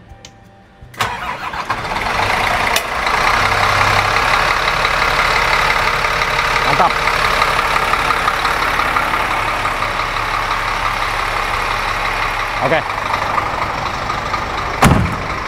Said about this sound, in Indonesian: suara mesin Scania tuh khas banget dan enak banget ya, renyah sekali